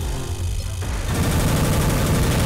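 Linear cannon fire from a mech in Armored Core 3, a heavy, continuous, roaring barrage that grows louder and denser halfway through, close and with no talking.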